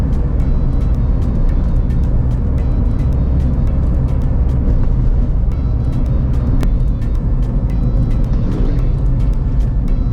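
A car engine accelerating on an uphill stretch of road, a steady, loud low rumble and drone that holds without a break, with no talking.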